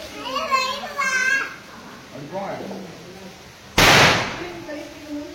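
A single loud, sharp firecracker bang goes off during Diwali, following a stretch of children talking excitedly close by.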